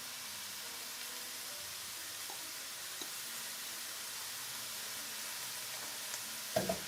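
Minced pork and French beans stir-frying in a wok, a quiet steady sizzle throughout with a few faint stirring clinks near the end.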